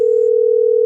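A steady, loud electronic tone from a phone call in the video game GTA 5, a single unbroken pitch holding for under a second before cutting off.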